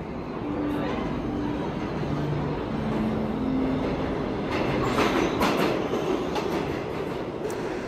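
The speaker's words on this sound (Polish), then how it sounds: "udajemy się w podziemną podróż po jednym z największych systemów metra na świecie, metrze nowojorskim" A New York City subway train rolls steadily along underground rails, a continuous loud rumble with rhythmic clatter and rising rail hiss, with a voice speaking over it.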